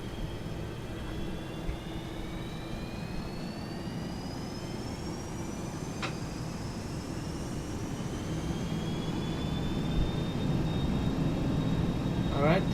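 Boeing 737-200 jet engines spool up to takeoff thrust in a flight simulator, a steady broad roar with rising whine tones building gradually louder throughout.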